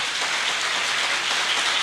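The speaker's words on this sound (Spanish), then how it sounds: "Aplauda bien fuerte al Señor." Congregation applauding during a church service, a steady dense wash of many hands clapping with no gaps, evenly loud throughout and no voices on top.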